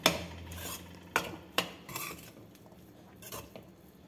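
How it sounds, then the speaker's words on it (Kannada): A spoon scrapes and clinks against a pan while mixing green peas lemon rice, with several sharp metallic taps and softer stirring scrapes between them, close and fairly quiet. "ಈಗ ಇದನ್ನು ಚೆನ್ನಾಗಿ ಒಂದ್ಸಲ ಮಿಕ್ಸ್ ಮಾಡಿಕೊಂಡು ಸರ್ವ್ ಮಾಡ್ಕೊಳ್ಳೋಣ"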